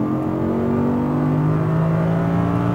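An Audi R8 V10 engine roars close and loud while accelerating on a race track, a continuous rising drone with no gaps or voices.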